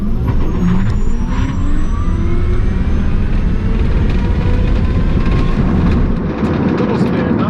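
Tesla Plaid electric car launching down a drag strip, a loud, steady broadband roar and whoosh with rising tonal sweeps, sustained and close throughout with no pauses.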